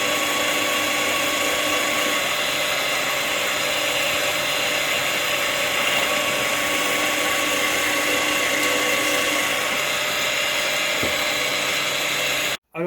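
Power tool grinding out a solder point on a DeWalt DCE040 battery pack, a steady loud whine running continuously for over twelve seconds up close, cutting off abruptly at the end.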